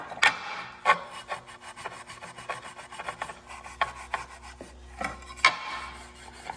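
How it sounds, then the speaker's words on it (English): A Scotch pad scrubs the surface of a timing chain cover on a 6.0 liter LS engine being rebuilt, making quiet, close rasping strokes in an uneven rhythm, several sharper scrapes standing out. "Cleaning the surface on the timing chain cover. Get that cleaned up with a Scotch pad."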